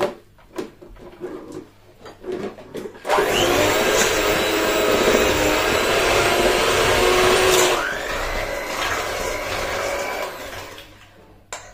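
An electric hand mixer whirs loudly while beating room-temperature butter in a bowl, running steadily for several seconds after a few knocks and clatters, then winding down.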